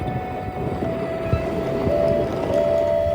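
A steam locomotive pulls in at a railway junction at night, giving a steady rolling rail rumble with a faint sustained tonal note running through it. No one speaks.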